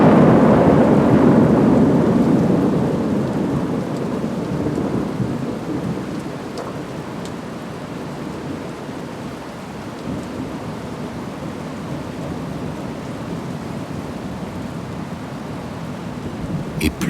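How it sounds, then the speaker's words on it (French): A thunderstorm with lightning and heavy rain: a loud rolling rumble of thunder at the start fades into a steady, dense hiss of rain on surfaces that continues throughout. "Et plus Galahad s'enfonce dans la tempête, plus l'obscurité s'épaissit"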